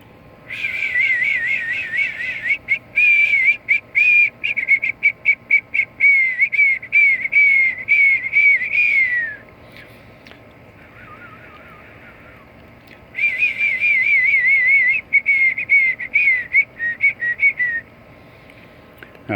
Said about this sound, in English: I'll whistle real low.